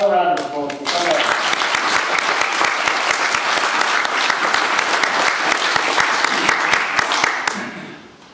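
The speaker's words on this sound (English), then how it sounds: "Another round of applause for someone." Audience applause for brass band players at a fundraising concert rises right after a spoken line, a full, sustained roar of clapping from a large crowd lasting several seconds before fading out.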